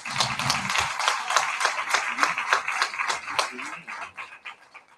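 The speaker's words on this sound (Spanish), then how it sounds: "un gran aplauso para las tenderas" Lively audience applause for flamenco students: dense, steady clapping that fills the room and slowly thins toward the end, with a few voices mixed in.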